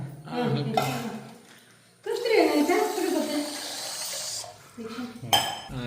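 Water pours into a metal pan for Maggi noodles, a steady splashing rush lasting a couple of seconds with clinks of kitchenware, while people talk nearby.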